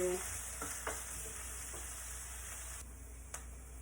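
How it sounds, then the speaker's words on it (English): Onions fry in a pan for cottage pie, a steady low sizzle running throughout with a few faint clicks and scrapes of stirring, close by and fairly quiet, with no voices. "the onions are now lightly brown"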